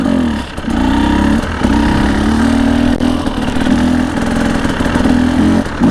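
A two-stroke motorcycle idles close by with a steady, throbbing rumble that dips briefly a couple of times early on, then settles into an even idle.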